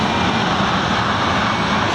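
Military jet flying past at the Biggin Hill air show, a loud steady engine roar filling the whole moment with no voices.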